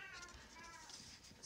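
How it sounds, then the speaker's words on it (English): A house cat gives a short, faint meow or two in a quiet indoor room. "That's my cat."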